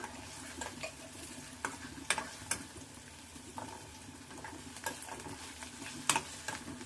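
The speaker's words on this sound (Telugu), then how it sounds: "కొంచెం చింతపండు కూడా వేసుకొని ఇందులోనే వేయించుకుందాం." Tamarind and cumin frying in oil in a pan, a soft steady sizzle broken by scattered sharp clinks and scrapes of stirring, close by with no talk.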